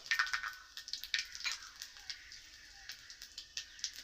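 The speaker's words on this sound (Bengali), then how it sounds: "তেলের মধ্যে দিয়ে দিব তেজপাতা দিব সামান্য পাঁচ ফোড়ন" Bay leaf and panch phoron spices sizzle in hot oil with faint, scattered crackles and pops, quiet and close, some spitting quickly in clusters and others spaced apart.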